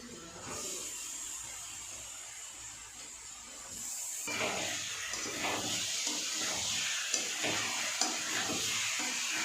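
Chicken pieces dropped into a hot pot for a stew, a broad steady sizzle swelling louder partway through, with irregular scraping stir strokes and occasional clinks up close.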